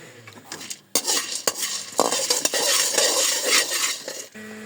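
Chickpeas dry-roasting in a metal pan, stirred with a utensil: rattling, scraping and clinking of the hard chickpeas against the pan in repeated bursts, close and fairly loud, with no talk.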